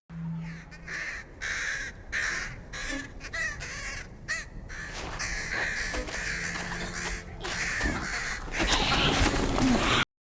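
Crows in the Lord of the Rings: Gollum video game give harsh, repeated caws over a continuous background ambience, fairly loud and close, with no voices.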